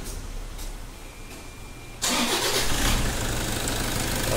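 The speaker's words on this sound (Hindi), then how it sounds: "गाड़ी स्टार्ट कीजिए।" A Toyota Innova engine cranks and fires about halfway through after near silence, then settles into a steady, loud idle that fills the rest of the clip.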